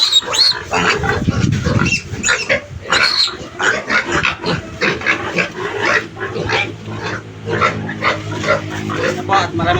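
Five newly bought piglets grunt and squeal in a pen, a near, continuous jumble of snorts and oinks, with someone speaking over parts of it.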